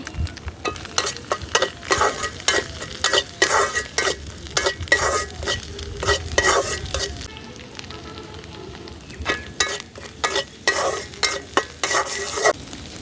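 Spices stirred into a sizzling frying pan of banana flower curry: salt, turmeric and chili powder scraped in with steady, repeated spatula strokes over a continuous close sizzle, with no talk.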